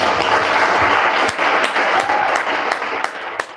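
Audience applause closing a TED talk, a steady wash of many hands clapping at fairly close range, holding level throughout with a few sharper individual claps near the end.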